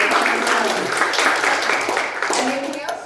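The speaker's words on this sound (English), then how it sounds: "Give a round of applause to" Audience at a Toastmasters meeting clapping together in a continuous, fairly loud burst of applause that tapers off at the close.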